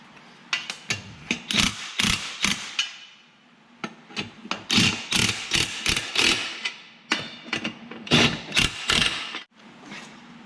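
A hand ratchet tightens the lug bolts on a John Deere 1025R's dual wheels, giving close, loud bursts of rapid clicking separated by short pauses, with no voices.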